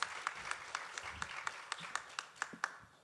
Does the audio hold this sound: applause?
yes